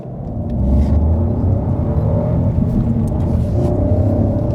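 A 2022 Opel Astra's three-cylinder petrol engine hums with a steady, close rumble from inside the cabin, holding an even drone throughout without voices.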